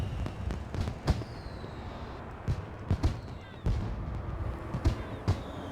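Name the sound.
fireworks display in the video game SimCity 4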